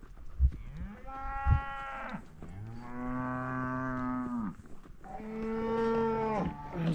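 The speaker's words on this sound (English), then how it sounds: "But all these cows are in a pretty good herd." Several cattle in a ranch herd moo in long, drawn-out calls, three distinct bellows in succession, fairly close and loud with little else around them.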